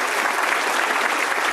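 A summit audience gives a brief, full round of applause, dense and even, loud and close, with no talk over it.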